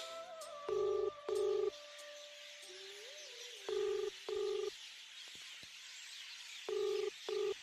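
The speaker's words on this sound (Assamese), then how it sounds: "মই নিশাক এতিয়াই ফোন কৰো।" Touch-tone keypad beeps ring out in three pairs of crisp, evenly spaced tones over a soft hiss as a telephone number is dialed in a radio drama, with no talking.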